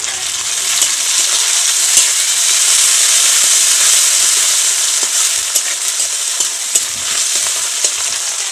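Chopped tomatoes frying in a pan for a large boal fish curry, giving a loud, steady sizzle with occasional soft stirring clicks throughout.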